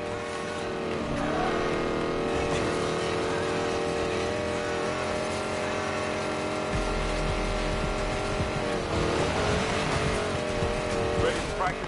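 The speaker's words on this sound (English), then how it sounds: "You're about to race and lift a hypercar loaded with prototype black market tech." A hypercar loaded with prototype tech races in Need for Speed Payback, its engine holding a steady, dense drone that swells near the end, with voices talking over it.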